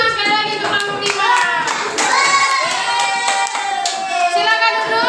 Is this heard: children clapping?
yes